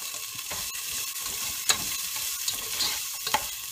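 Garlic and onion sizzle steadily in a pan, a continuous bright crackle with a few small pops and light stirring scrapes, close and even throughout, with no talking.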